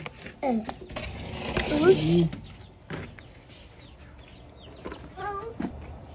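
A pet chicken clucks softly in a few short bursts while being fed grapes, cantaloupe and papaya, close by amid faint clatter and people talking.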